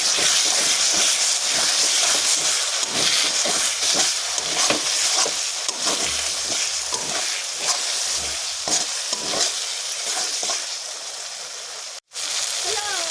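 Spice masala with Kashmiri chili powder sautéing in a pan, a loud continuous sizzle broken by rhythmic scraping strokes of stirring, with a brief dropout near the end.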